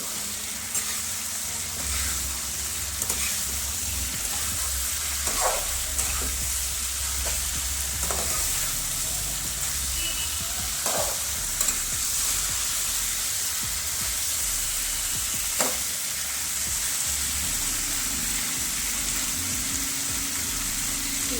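Punjabi-style sweet-and-sour pumpkin halwa sabzi sizzles in a frying pan as it is stirred, a constant close hiss of frying with occasional soft spoon knocks and scrapes spread through, no talking.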